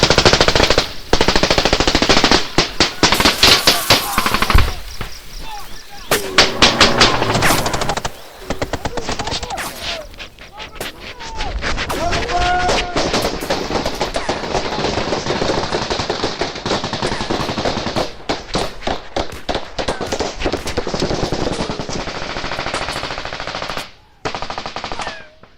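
Machine-gun bursts and single rifle shots crackle through Vietnam War combat in the A Shau Valley, loud and dense for most of the stretch, broken by brief pauses and shouted voices.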